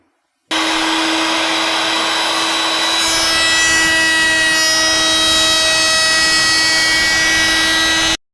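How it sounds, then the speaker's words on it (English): A wood router fitted with a 1/2 inch flush trim bit and 3/4 inch bearing trims walnut and cherry for a curved cutting board, giving a loud, steady, high motor whine for about eight seconds with no talking. "I can use my 1/2 inch diameter flush trim bit with a 3/4 inch diameter bearing"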